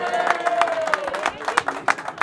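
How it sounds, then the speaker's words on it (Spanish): Audience clapping for the two celebrants at a birthday party with a youth mariachi band, sharp claps bursting in a quick irregular rhythm over a steady background tone. "¡El aplauso!"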